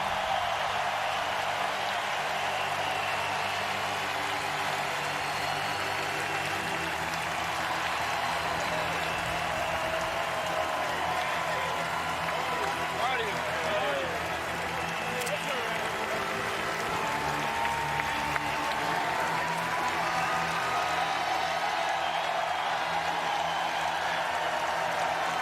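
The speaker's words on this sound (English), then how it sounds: "Listen to the applause." Sustained applause and cheering from a large crowd at a baseball stadium in Omaha during the NCAA national championship game, a dense, steady roar of clapping spread wide and far off, continuing without a break.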